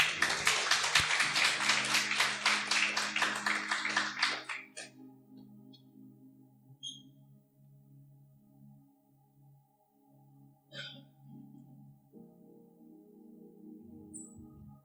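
A church congregation claps in praise during a women's worship service, a brisk burst of clapping lasting about four seconds that gives way to near-quiet with faint lingering tones.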